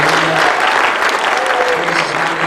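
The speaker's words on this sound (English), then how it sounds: "let's give Hashem one more great big clap offering." A synagogue-style congregation gives a loud, dense round of clapping in the sanctuary at the close of a Shabbat service, sustained and even throughout with no talk heard.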